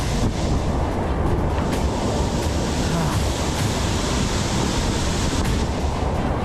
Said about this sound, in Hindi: ये बहुत ऊंचा झरना है।